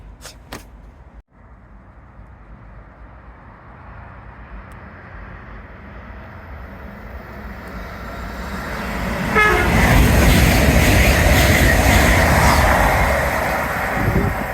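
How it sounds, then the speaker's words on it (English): A freight train passes through Cramlington railway station, rumbling in from a distance and swelling into a loud, close roar of wagons rolling by, with clanks and rattles near the end. "You got a freight."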